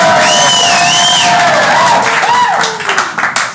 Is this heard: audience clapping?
yes